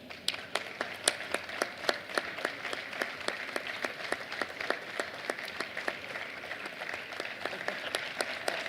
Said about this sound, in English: So, big applause for Sisei Lema.